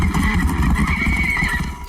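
A horse neighs loudly in a Game of Thrones battle scene, a long drawn whinny over nearby hoof clip-clops and a dense low rumble of commotion.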